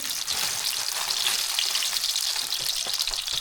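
A single pork patty frying in oil in a pan, giving a steady, dense crackling sizzle that holds at an even level throughout, with no voices over it.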